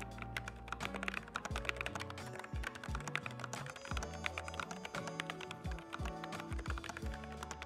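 Rapid, steady typing on a slim, compact mechanical keyboard, crisp clacky keystrokes in a dense rhythm, close up, with a faint low musical backing underneath.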